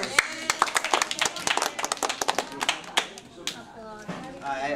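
A small audience at a Wayang Golek puppet presentation claps in scattered, uneven bursts, individual hand claps clearly separable and fairly close, thinning out toward the end as a voice begins speaking.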